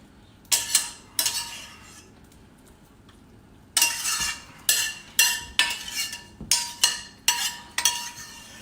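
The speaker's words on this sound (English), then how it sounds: "I'm just going to use a spoon to spoon it out" A metal spoon scrapes and clinks against a pan, scooping out pasta sauce in a run of sharp, irregular strokes, sparse at first and then quick and close together.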